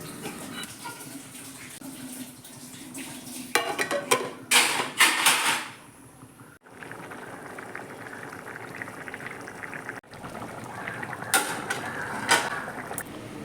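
Chicken curry is stirred in a pot, with scraping and clattering bursts, wet bubbling and a brief pause, all heard close up without speech.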